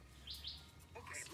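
A person whistles a bird call, imitating a bird with a few quick high chirps and a short rising trill, faint and close, heard alone with no talk over it.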